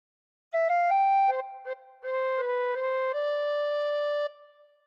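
A tin whistle plays a slow phrase of Home on the Range, clear sustained notes with a few quick breaks between them, heard alone and close.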